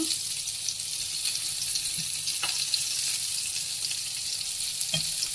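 Eggplant slices sizzling in an oil-filled pan, a steady hiss with faint scattered pops, moderately quiet and continuous with no talk.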